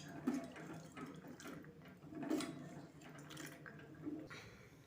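Soaked peanuts are tipped into a pot along with their water, giving soft pouring and sloshing that swells and fades in several pulses, close but quiet, with no voices.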